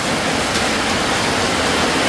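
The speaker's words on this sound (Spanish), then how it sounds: "Ha comenzado a llover, son las 11 y 45 y se ha venido otro bombazo más de agua." Heavy rain pours down at night in El Salvador, a loud, dense, continuous hiss of water with no pauses.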